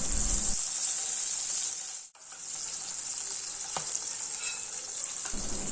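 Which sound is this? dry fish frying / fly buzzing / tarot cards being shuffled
dry fish frying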